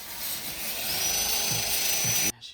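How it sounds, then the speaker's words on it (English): A power drill with a wire wheel whirs steadily with a high, grinding whine, scrubbing rusty metal on a Mazda MX-5 Miata, then cuts off abruptly near the end. "grab the drill with a wire wheel on it"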